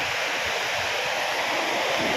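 Strong sea waves roll and crash near the shore, a steady broadband wash of surf filling the whole stretch without pause, close and fairly loud.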